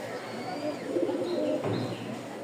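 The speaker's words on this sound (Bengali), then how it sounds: "এই যে ছটপটা কবুতর, দেখলেই বুঝতে পারবেন" Soft, low pigeon cooing under a steady background hum, with a faint rustle partway through.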